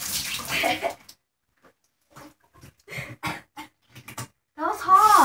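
Tap water gushes into a water balloon in short loud bursts at the start and end, with people talking and laughing in the quieter stretch between.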